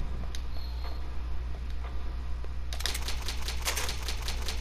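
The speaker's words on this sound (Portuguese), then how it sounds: "Máquina de escrever, bacana." Typewriter save sound from the Resident Evil Remake video game: a rapid burst of clacking keystrokes rises in the second half over a steady low game ambience hum.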